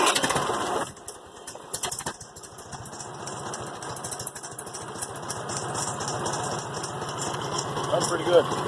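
After a loud start-up burst, an old tractor engine settles into a steady, chugging idle with a rapid knocking rhythm, fairly close and continuous.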